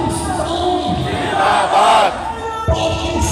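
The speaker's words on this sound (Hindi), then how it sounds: "अल्लाह अकबर की आवाज़ें भी हैं।" Large crowd at the Wagah border parade between India and Pakistan roaring an Allahu Akbar chant, a loud sustained mass of voices with rising shouts and a brief thump near the end.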